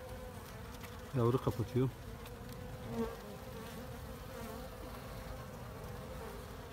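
Honey bees buzz steadily around a frame from a split hive, a close continuous drone that carries through the whole stretch while someone briefly speaks over it.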